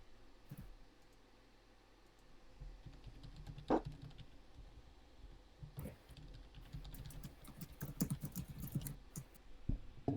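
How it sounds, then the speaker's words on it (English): Rapid keyboard typing at a home tabletop role-playing session, quiet bursts of clicking keys that come in clusters and grow busier toward the end, with a few sharper taps standing out over faint room hiss. "Who is that that's typing like that?"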